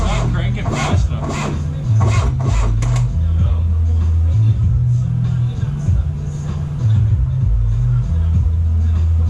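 Slow, labored cranking of a 1982 VW Rabbit 1.6-litre diesel engine after three years of sitting, a low, loud, uneven churning rumble that drags on steadily throughout, with occasional voices over it.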